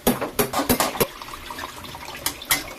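Water splashes and pours into a cooking pan holding dried fish, a run of uneven close sloshing bursts that pause briefly before a few more splashes.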